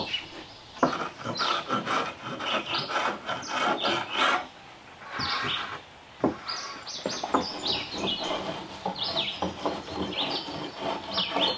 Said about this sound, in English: now we get to try to shave these little splinters off